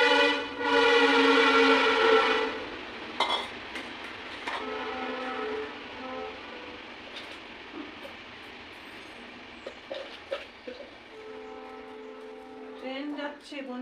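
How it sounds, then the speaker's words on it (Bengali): A train passes nearby: a loud horn-like whistle blares at the start, then a softer rumble continues with further tonal horn blasts toward the end, while a voice speaks intermittently over it. "ট্রেন যাচ্ছে বন্ধুরা, ট্রেন যাচ্ছে।"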